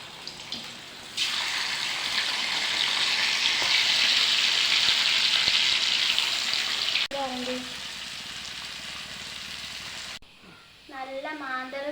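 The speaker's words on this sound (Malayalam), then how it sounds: "ഇനി നമുക്ക് മാന്തൽ പൊരിക്കാം." Sole fish rubbed with asafoetida drops into hot oil in a pan, setting off a loud, steady, close sizzle that runs for several seconds before cutting off, followed by a person talking.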